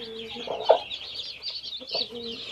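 A large hen clucks in short, soft bursts beside her newly hatched chicks, whose high, thin peeps run almost constantly over her calls.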